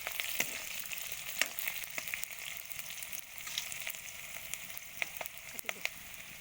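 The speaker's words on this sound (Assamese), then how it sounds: "কত পিঁয়াজ আৰু কাঁচা জলকীয়া বহাই দিছোঁ" Onions and green chillies fry in a pan with a soft, steady sizzle, broken by faint crackles and pops, and no one speaks.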